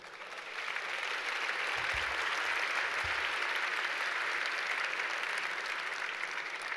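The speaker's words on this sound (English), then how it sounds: "Please give them a round of applause as well." A gala dinner audience applauds the evening's sponsors, a broad, even wash of clapping that swells in after a quiet start and continues steadily for several seconds, with a couple of soft low thumps underneath.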